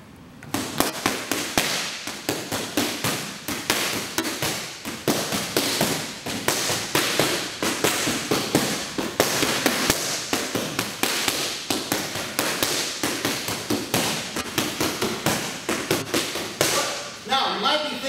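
Rapid, steady bursts of sharp smacks from punches landing on pads, continuing in a dense rhythm for the whole stretch, close and loud.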